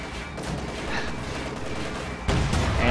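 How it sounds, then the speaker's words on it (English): Panther tank shelling a Sherman in a WWII tank video game: dense, continuous battle noise of gunfire and rumbling blasts, with a louder, heavier burst of firing near the end and no voices. "This Sherman, however, doesn't appear to be reacting to the fact that a Panther is shooting at it."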